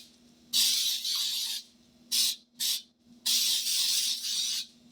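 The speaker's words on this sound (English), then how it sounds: "And we're going to spray the inside of this pan" Several bursts of cooking spray into a pan: a long hissing spray, two short puffs, then another long spray, close up over a low background hum.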